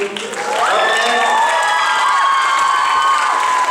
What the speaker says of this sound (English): one last round of applause for all the no talent